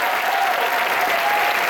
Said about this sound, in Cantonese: 俾多啲掌聲自己